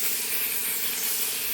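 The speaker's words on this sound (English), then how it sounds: "The hot steam pushes the junk out of the pores." Steady, close hissing from a steam cleaner blasting hot steam onto a granite countertop, an unbroken airy spray sound with no voices.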